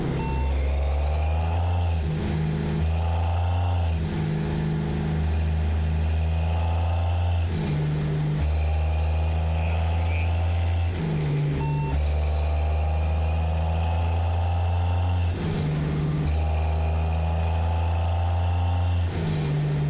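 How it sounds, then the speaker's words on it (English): A heavy truck engine in American Truck Simulator drones low and steady while hauling cattle cross country, rising in periodic revs as gears shift, loud and continuous with no talking. "But can you hear the engine in game?"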